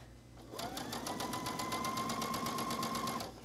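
A sewing machine stitches slippery fabric, easing a neckline into bias binding, with a steady fast mechanical whir and rapid needle ticks running continuously for about three seconds at close range, no talking.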